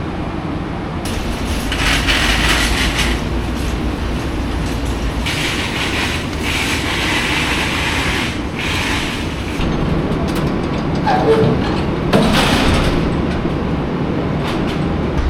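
Auto Train rail cars rumble and clank along the tracks at moderate distance, with a few metallic knocks and clatters as the cars are coupled together.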